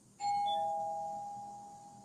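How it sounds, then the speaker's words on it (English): A doorbell rings once, a clear two-tone chime that starts abruptly and rings on, slowly fading, in a quiet room. "Pardon the doorbell."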